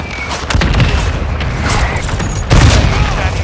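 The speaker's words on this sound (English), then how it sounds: "Mortar strike on the way." Mortar strike explosions in Modern Warfare 2 pound in close succession, producing heavy, continuous booming and rumbling with a stronger hit near the end, loud and close in the mix.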